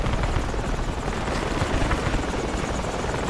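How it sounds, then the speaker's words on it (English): A helicopter from the Project Reality military game thrums steadily at close range, its dense rotor and engine roar holding constant and loud across the whole stretch with no voices. "That's it, chopper."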